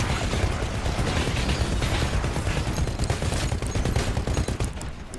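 Titanfall gunfire roars in a continuous, dense stream of rapid automatic shots, loud and close, mixed with mechanical clattering and ratcheting weapon noises, with no break.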